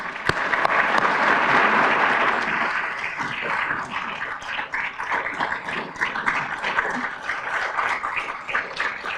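An audience applauds to welcome Rotary International President Barry Rassin: dense, sustained clapping from a crowd fills the room loudly, then thins slightly as it continues.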